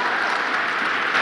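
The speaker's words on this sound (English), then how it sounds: "Let's clap for that" Broadband, steady audience clapping fills a large crowd space for just over a second, even in density with no pauses and no talk over it.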